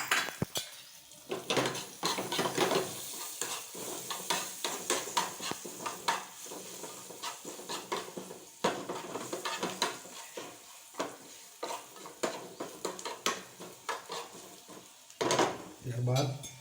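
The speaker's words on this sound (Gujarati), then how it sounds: "હવે મરચું અને લસણ છે એ આપણે ચડાવવાનું છે." Chili and garlic sauté in a pan for dal fry, with repeated metal clinks and scrapes of a spoon stirring over a soft sizzle, the clatter irregular and close.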